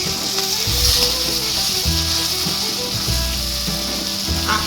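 Chilli powder, turmeric and torn chillies frying in oil in a pan, giving a loud continuous sizzle with a few soft stirring scrapes, close by; a low hum and faint tones run underneath.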